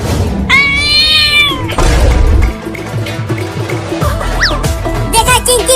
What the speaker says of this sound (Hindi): अरे वाह, वो रही एक बिल्ली।